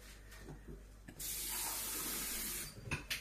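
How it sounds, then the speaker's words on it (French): Water poured into a pot of rabbit meat for mustard rabbit stew, a close hissing splash running for about a second and a half with small clinks before and after. "Je vais mélanger avec un peu d'eau."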